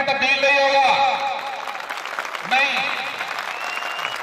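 Audience at a school farewell debate program in Ali Pur claps briefly while a voice carries over the noise, the applause swelling at the start and again midway.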